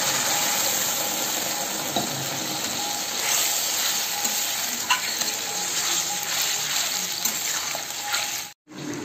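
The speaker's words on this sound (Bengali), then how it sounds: "তো এবার গ্রেভিটা ফুটে উঠেছে" Chilli chicken gravy with tomato sauce and water bubbling and sizzling in a pan, a steady, loud frying hiss with faint scrapes, running continuously until it cuts out briefly near the end.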